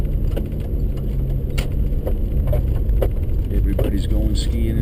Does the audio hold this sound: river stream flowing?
no